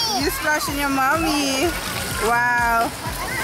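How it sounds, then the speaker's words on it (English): Water splashes in a pool at a water park as children and adults talk over the choppy sloshing. "You're splashing your mommy."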